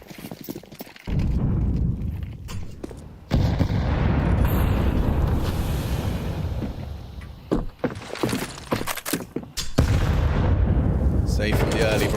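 HE grenade explosions in a Counter-Strike 2 esports match: several heavy booming blasts and bursts one after another, loud and close, with a commentator talking over them.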